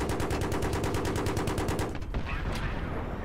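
A Battlefield 3 aircraft gun fires a rapid, evenly pulsing burst lasting about two seconds, then cuts off. A lighter tail of ambient noise follows.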